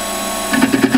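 A metal lathe begins facing off a hammer head held in the chuck: a steady machine hum, then a rhythmic series of four or five cutting pulses, close and fairly loud.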